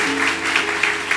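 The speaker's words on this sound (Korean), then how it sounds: "환영과 축복의 박수 한 번 더 부탁드리겠습니다" A church congregation gives a round of welcoming applause, dense clapping that pulses in waves throughout a short burst, fairly loud and without speech.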